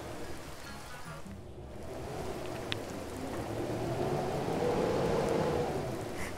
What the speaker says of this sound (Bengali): ওখানকার ঝড় বৃষ্টি কেমন চলছে